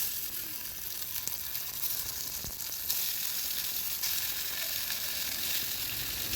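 Karunai kilangu (elephant foot yam) slices sizzle steadily in a pan of oil over a low flame, a constant crackling hiss with occasional louder pops, no voices.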